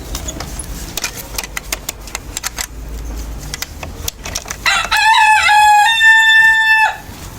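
Fayoumi chickens in a coop: scattered clucks and scuffling lead into a loud, close rooster crow that rings out clearly for about two seconds near the end.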